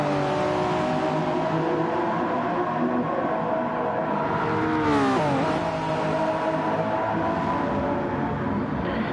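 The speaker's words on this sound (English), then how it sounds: "There's just a mess of automobiles going through Parabolka at the moment" Several race cars in a racing video game sweep through the Parabolica curve at Monza, a steady dense engine drone with layered tones that dip and shift as cars brake and pass, loud and continuous with no talk.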